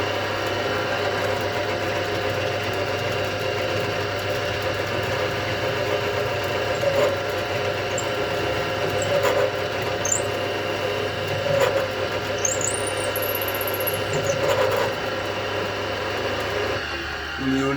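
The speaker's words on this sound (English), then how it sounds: "so I'm going to drill that one" A hand drill boring into a late-'60s-style Stratocaster guitar body, a steady motor whir with a broad mechanical hum that runs unbroken for the whole stretch, close and moderately loud.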